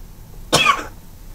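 A single sharp cough, close and fairly loud, breaks through a quiet room during a chemistry lesson.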